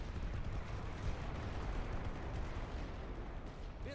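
Relentless, dense artillery barrages rumble and crack without pause in the WWI strategy game The Great War: Western Front, a loud wall of overlapping blasts filling the whole stretch.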